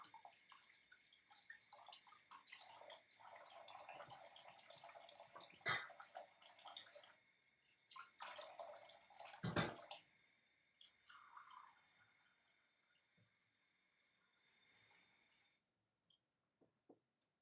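Warm tap water runs and splashes into a container in a kitchen, a steady close trickling stream with a few louder splashy surges before it cuts off near the end.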